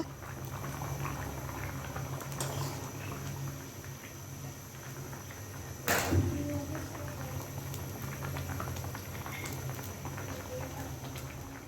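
Fish curry bubbles steadily in a pot, a continuous low burbling simmer with a brief louder clatter near the middle, no talk over it.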